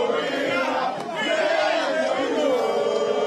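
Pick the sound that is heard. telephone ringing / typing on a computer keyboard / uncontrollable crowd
uncontrollable crowd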